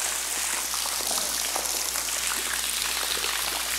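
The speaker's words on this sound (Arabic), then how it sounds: "شكلها قاعده تمطر جوه" Water drips and patters like steady rain inside an abandoned railway tunnel about 200 years old, forming a dense, continuous hiss of drops that stays even throughout.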